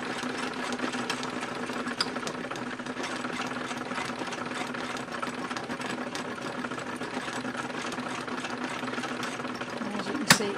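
A vintage Singer Touch & Sew sewing machine embroidering, running steadily with a fast even mechanical whir and tapping needle, close and constant, ending in a sharp clack.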